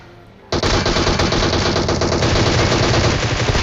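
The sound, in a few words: Groza rifle gunfire in video game PUBG Mobile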